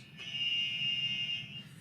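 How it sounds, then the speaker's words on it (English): An electronic lights-and-sounds buzzer from a buzzer kit gives one steady, loud, high-pitched tone lasting about a second and a half, starting and stopping abruptly, with faint room noise underneath. "Look at a this lights and sounds buzzer."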